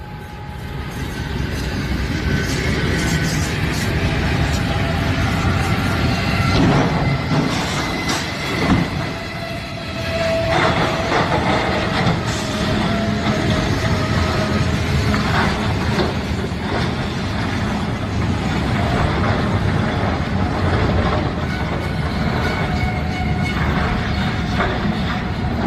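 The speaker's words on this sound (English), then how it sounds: "Seconds later, the locomotive slams into the truck." A freight train rolls past with a loud, continuous rumble and rattling of railcars, wheels clattering along the tracks at a level crossing where a semi truck is stuck.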